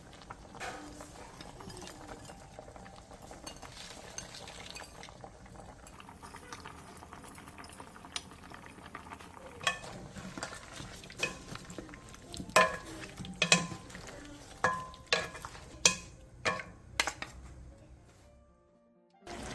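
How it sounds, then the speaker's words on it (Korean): A braising sauce in a pot simmers quietly with shiitake mushrooms, onion, green onion and cheongyang chili, plus corn syrup, garlic and maesil extract. Soft bubbling runs throughout, and a spoon gives occasional sharper clinks and scrapes against the pot near the end. "표고버섯, 양파, 대파, 청양고추를 넣고 한 번씩 뒤적여가며 5분간 더 졸여주세요"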